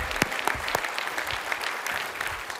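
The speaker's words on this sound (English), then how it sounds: "Another round of applause for that amazing story" An audience at a large tech conference general session applauds, a dense burst of clapping with distinct sharp claps standing out near the microphone, sustained throughout.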